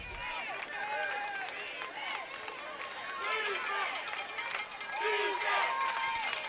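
High school playoff football crowd in Louisiana, Parkway versus Hahnville, roaring and chanting in steady waves across the stands, loud and continuous with rising surges.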